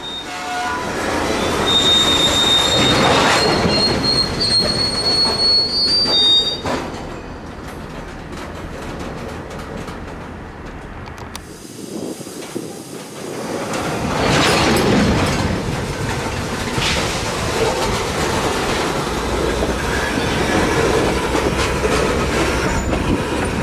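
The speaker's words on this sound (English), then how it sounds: "The switching here took the better part of an hour" A Florida Central freight train switches cars in Florida, with loud, steady rumbling of rolling railcars, squealing wheels and clanking couplers close by, easing briefly midway before the heavy rolling noise resumes.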